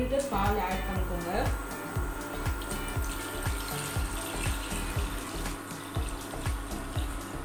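Milk, one litre, poured into a pan while making orange kulfi, a continuous liquid splashing and trickling under a woman's speech, with soft background clatter.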